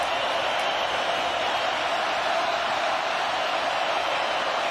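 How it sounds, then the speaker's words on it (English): A home stadium crowd roars at a 2017 college football game between Virginia and Miami, a dense, constant wash of cheering and noise that holds steady throughout without distinct peaks. "Home crowd roaring for a stop."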